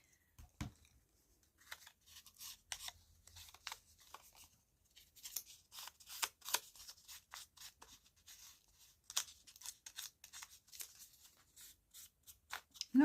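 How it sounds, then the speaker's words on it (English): Small pieces are cut out of a sheet of paper: quiet, irregular snips and crisp rustles with short pauses between them, close and alone with no talk. "It's quite fun taking little pieces out of a piece of paper."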